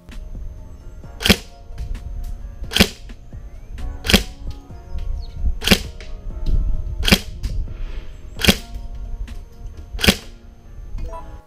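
Tokyo Marui M4A1 airsoft rifle with recoil, run on a 7.4 V LiPo, fires 0.2 g BBs through a chronograph: eight sharp, evenly spaced semi-auto shots about 1.5 seconds apart, each a crisp snap over quiet background hum.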